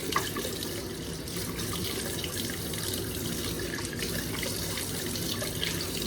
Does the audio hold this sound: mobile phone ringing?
no